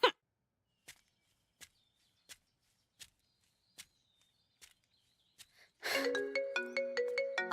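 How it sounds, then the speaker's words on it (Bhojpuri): An incoming call's mobile phone ringtone starts near the end, bright and melodic, following a series of sharp, evenly spaced footsteps in an otherwise quiet room. "अरे ये मुकुला फोन करता।"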